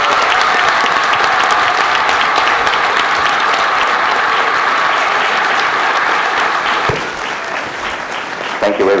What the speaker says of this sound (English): can everyone give a big round of applause to Shane, please